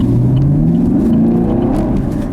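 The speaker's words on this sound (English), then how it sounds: "it still does want to spin these rear tires" A 2017 Chevrolet Camaro SS 1LE with a manual gearbox revs hard as its rear tires spin, a loud, close engine drone climbing steadily in pitch for a couple of seconds with no talking.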